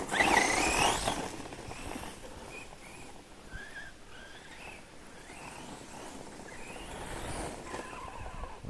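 A radio-controlled model car runs on its own with a high whining motor, a sharp skid burst at the start and another near the end, and varying throttle in between.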